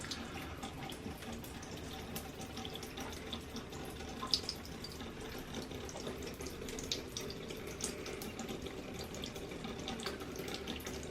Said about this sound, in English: He likes to drink from any faucet.